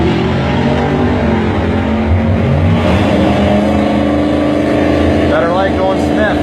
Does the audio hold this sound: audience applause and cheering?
no